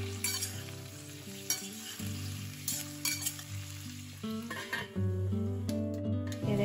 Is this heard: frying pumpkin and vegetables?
yes